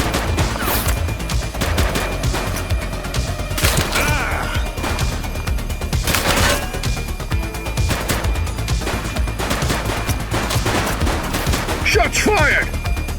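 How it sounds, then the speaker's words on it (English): Gunfire rings out in The Precinct, a police video game, with sharp shots and rapid bursts cracking over a dense, loud mix of game noise while voices call out between them. "Shots fired!"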